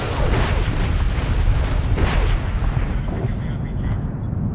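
Bombs explode in the Medal of Honor video game: heavy, rumbling booms and blasts follow one another over a dense low roar, then the noise fades and thins toward the end.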